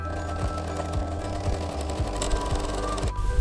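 A sewing machine stitches the side seam of a pair of jeans. It runs as a steady, close, rapid mechanical hum with a regular needle rhythm all the way through, then briefly changes pace near the end.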